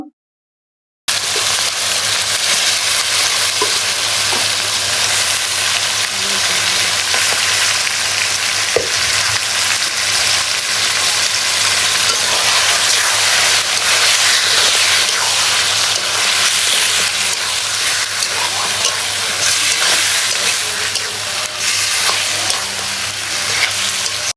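Meat tossed into spiced masala fries in a hot pot with a loud, dense, continuous sizzle and faint stirring underneath, close and steady throughout after a brief silent start.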